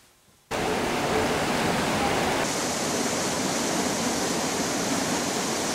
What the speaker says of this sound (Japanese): まあ、滝ということですけれども